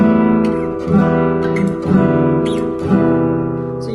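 Guitar chords from the classical piece Cordoba ring out close and clear, about four strummed chords spaced roughly a second apart, each left to sustain, with no speech.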